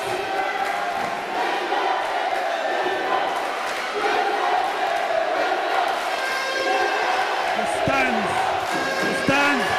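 Crowd cheering and shouting at a women's university basketball game, a steady roar of voices with whoops and ball bounces and squeaking sneakers on the court, under a commentator's voice.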